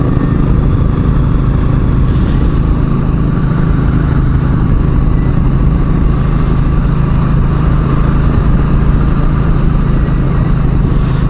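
Continuous loud motorcycle engine drone from a modest, not especially powerful bike ridden on hilly, twisty roads, a steady mid-pitched hum blended with heavy wind rush and no voices.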